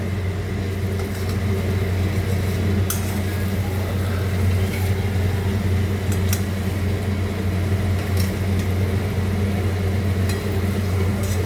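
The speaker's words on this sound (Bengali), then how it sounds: "আমি এই মাছের পিসগুলো তেলের মধ্যে দিয়ে দিচ্ছি এক এক করে" Hilsa fish pieces sizzle steadily in hot oil with turmeric and spices, a continuous close frying hiss with a low steady hum underneath and a few sharp crackles.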